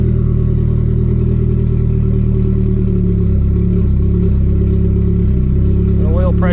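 A Nissan SR20DET turbo engine runs for the first time in a long while, idling roughly with an uneven, loud, low rumble that dips and surges, and a voice briefly heard near the end.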